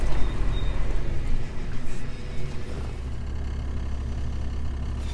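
A 4WD vehicle crawls in first gear down an eroded bush fire track in Lane Poole Reserve near Dwellingup, its engine a steady low hum with rumbling and crunching over rough ground, up close and continuous.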